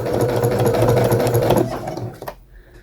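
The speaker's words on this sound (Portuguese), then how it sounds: "Quando a coisa é grossa, você tem que costurar assim, ó, devagarzinho" A sewing machine stitches slowly through thick fabric for a romper with a steady, close, loud motor hum, then stops and leaves a few faint clicks.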